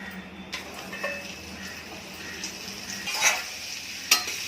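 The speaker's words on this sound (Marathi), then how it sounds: "याच्यात आपण ही कैरी चांगली व्यवस्थित परतून घ्यायची" Raw green mango sautéed in a pan with cumin powder, black pepper powder and a pinch of salt, giving a steady soft sizzle with occasional scrapes and clinks of stirring, close up and without talk.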